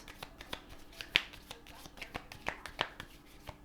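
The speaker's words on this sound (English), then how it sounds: "These are hard to shuffle." Tarot cards being shuffled up close, a series of crisp riffling flicks and snaps at an uneven rhythm, with no talking.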